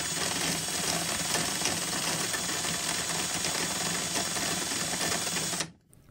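A Hyper Tough installation driver runs at high speed, giving a loud, steady mechanical whir with a fine rattling texture that holds for about five and a half seconds, then cuts off abruptly.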